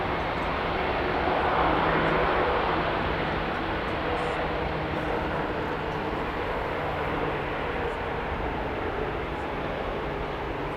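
A Boeing 737-8 MAX airliner takes off at DFW Airport, its jet engines a loud, steady broadband roar that swells slightly early on and then holds at a constant level.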